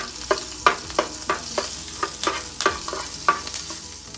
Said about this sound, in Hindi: जीरा फ्राई होने के बाद हम इसमें हरी मिर्च डालेंगे।